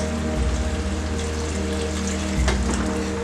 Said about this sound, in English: And this is my water from the jug.